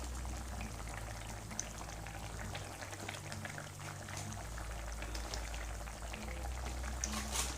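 Gravy with pakoras bubbles and simmers in a pan, a steady close-up crackle and fizz with a low burner hum underneath, continuous and even throughout.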